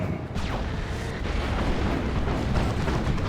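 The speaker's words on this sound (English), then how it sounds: "the plasma cannons get good decent shots on them here" Plasma cannon shots and explosions in a Dawn of War 2 3v3 battle roar continuously, dense and loud, with rumbling booms layered over one another and no clear gaps.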